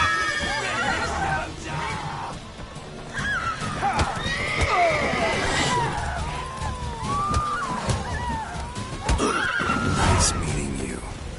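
A horse in The Witcher 3 whinnies and snorts repeatedly while hooves clip-clop. Game music and effects play underneath, and voices speak at times.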